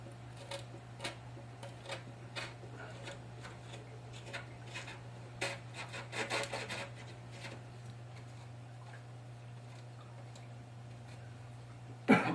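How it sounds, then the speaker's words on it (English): A pin vise hand drill twisted slowly into a Tamiya TB04 LaFerrari model car body to make pilot holes, giving faint, close, irregular ticking and scraping clicks over a steady low hum, with one sharper knock at the end. "I'm going to use the pin vise"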